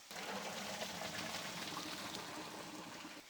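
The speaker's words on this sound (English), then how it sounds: "now we're going to drain these noodles." Water pours steadily out of a pot as cooked gluten-free vegan pasta noodles are drained, a continuous hissing splash with no speech.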